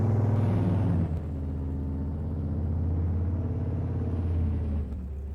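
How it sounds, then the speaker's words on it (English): A Farming Simulator 22 truck engine, stuck in gear, drones at a steady, unchanging pitch, a constant rumbling whir that never rises or shifts. "sounds like this truck is actually stuck in gear"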